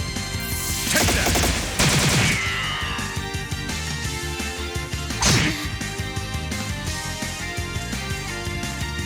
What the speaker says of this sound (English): He just has cannon fire he can pull out of nowhere?